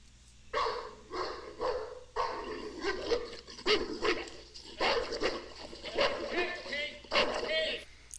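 A terrified reactive dog barks and whimpers in repeated loud, close bursts throughout, mixed with a person's raised talking and screeching.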